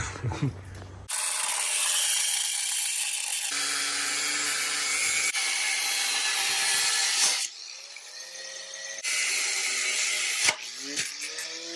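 A power tool cuts a notch in a Jeep Wrangler body mount, whining in long, loud bursts that shift pitch as the cut goes on, with short pauses and a few clanks between them.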